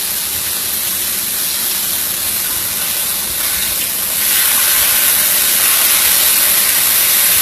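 Pork chops sizzle in a hot pan with a loud, continuous hissing roar that swells noticeably about halfway through and carries on steadily with no speech.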